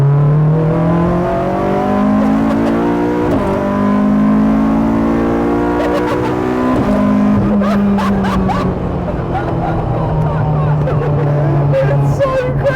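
A K24-engined Honda Civic hatchback with a sequential gearbox accelerates hard from inside, engine pitch climbing repeatedly through several quick gear shifts, loud and steady with faint voices under it.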